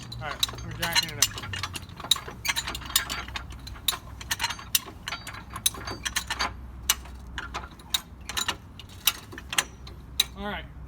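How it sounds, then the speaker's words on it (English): A Hi-Lift jack ratchets a Jeep Wrangler upward, its metallic clicks repeating in a steady pumping rhythm, close and crisp, with a person talking over parts of it. "we'll start jacking the Jeep up. Ready for this? Alright, we're jacking it up."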